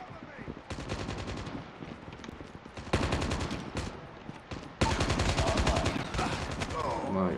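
Call of Duty Mobile played on PC, with loud rapid automatic gunfire in repeated bursts that grow heavier and more sustained partway through, close and dominant, with a faint voice underneath.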